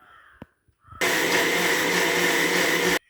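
A mixer grinder crushing onion, green chilli and coconut for kappa dosa starts abruptly and runs loud and steady for about two seconds before cutting off, preceded by a few small clicks.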